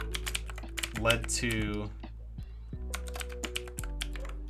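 Fingers tap a computer keyboard in quick, close clicking bursts while someone talks over them, keys continuing between and under his speech.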